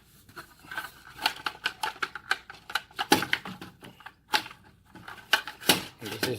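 Line pulled out of an MD-61 plastic retractable five-line clothesline, heard as a quick run of close, sharp plastic clicks and ratcheting ticks in irregular bursts.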